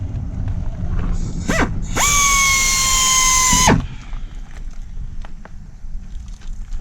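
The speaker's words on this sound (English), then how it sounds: "we're going to start by drilling a hole into the headlight" A power drill whirs briefly, then bites into a plastic car headlight with a steady high whine for about two seconds before stopping.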